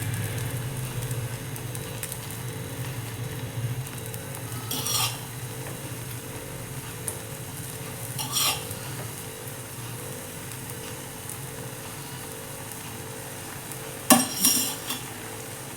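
Egg adai dosa batter and oil cook on a hot pan, a soft continuous sizzle with occasional scraping and clinks of a utensil against the pan.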